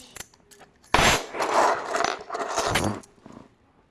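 Close metallic jingling of house keys, a few faint clinks first, then a couple of longer bursts of rattling that fade out.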